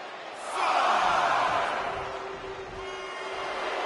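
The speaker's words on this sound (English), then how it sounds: "The crowd is fired up." Wrestling arena crowd in the WWE 2K25 video game, a loud roaring cheer that swells, peaks and then settles into a sustained background crowd noise with a faint tonal whistle.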